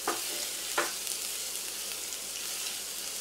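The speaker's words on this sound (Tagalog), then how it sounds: "Magigisa tayo yung ating bawang." Garlic sautéing in hot oil in a pan, a quiet steady sizzle with two brief stirring scrapes early on, heard up close with no voices.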